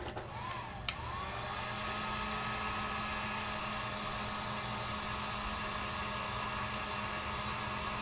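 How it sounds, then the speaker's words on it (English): A heat tool drying acrylic paint on a gingerbread frosting girl door hanger, a steady loud blowing whoosh running unbroken from start to finish, with a faint click near the beginning. "let me dry this real quick"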